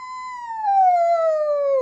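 A person's voice imitates an ambulance siren, a single clear sustained wail sliding slowly downward in pitch over nearly two seconds, loud and close with nothing else behind it.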